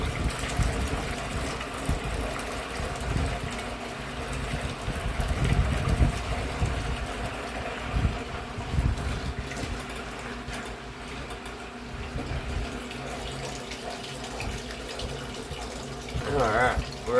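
Water drains from an old wringer washer out through a hose, making a continuous rushing, gurgling flow with a low mechanical hum under it, steady and fairly close, with a brief louder gush near the end.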